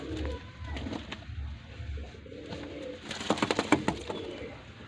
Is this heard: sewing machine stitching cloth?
no